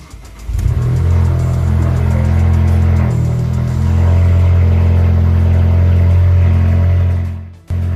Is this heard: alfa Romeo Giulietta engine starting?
yes